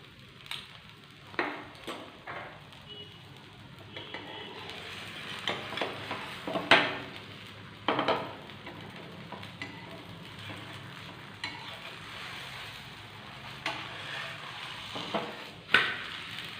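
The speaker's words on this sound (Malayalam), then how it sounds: "നമുക്കിതിലേക്ക് കുറച്ച് ഓയിൽ ഒഴിച്ച് കൊടുക്കാം." Oil poured onto a wheat dosa on a hot pan sets off a steady sizzle and frying hiss, broken by scattered scraping and clinking of a utensil against the pan, close and moderately loud.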